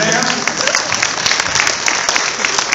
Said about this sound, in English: give these people a nice round of applause here tonight